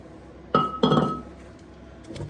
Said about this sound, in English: The rotor should come right off. Rotor off.